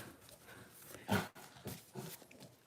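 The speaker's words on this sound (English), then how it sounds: "don't y'all start that growling" Dogs growl indoors in a few short, rough bursts, the loudest near the middle, against a low background murmur.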